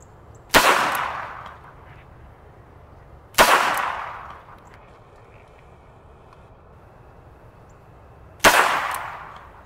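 Three loud, sharp gunshots from a .22 Magnum or .380 ACP fired at close range into a 10% ballistic gelatin block, each crack standing alone with a short decaying echo and quiet gaps between.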